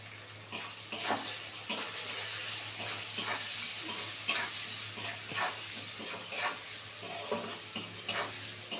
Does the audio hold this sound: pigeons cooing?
no